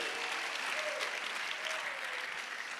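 Applause from a church congregation, steady and dense clapping filling the room throughout, with no voices over it.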